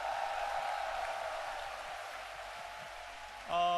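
A congregation at an evening Christian servicemen's national prayer rally applauds to welcome guests from Baengnyeongdo, Yeonpyeongdo and Jeju, a steady wash of many hands clapping that fades slightly before a tonal musical phrase enters at the end.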